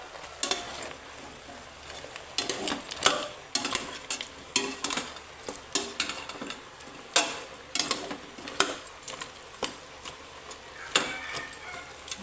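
A utensil repeatedly stirs and scrapes a chicken dish in a pan in quick, rhythmic strokes over a low sizzle, close and clear.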